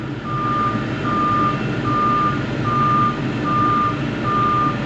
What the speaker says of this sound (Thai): เสียงเครื่องหกสูบแน่นๆครับเป็นเสียงของคัมมินนะครับ